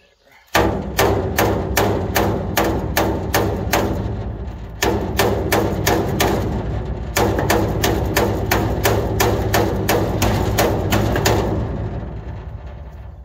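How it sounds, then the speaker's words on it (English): Repeated metal hammering on a car trailer part during a repair: loud, sharp rapid blows in steady bursts with brief pauses between runs, close and dominant. "I think we gotta use a small hammer."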